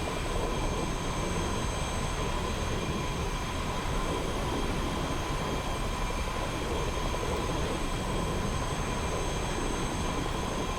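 A C101E two-seat jet takes off in the DCS flight simulator, its engine a loud, steady broadband roar with a high whine, continuous and unbroken.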